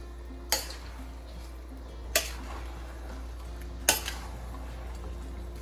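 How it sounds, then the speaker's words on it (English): Three sharp metallic clanks at spaced intervals as a crab and shrimp boil is stirred in a pot, with a steady low hum underneath and no talking. "I'm just gonna give it a really quick mix right here"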